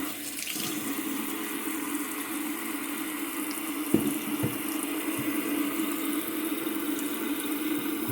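Hot water runs steadily from a tap into a sink, a continuous splashing stream with a couple of faint knocks partway through.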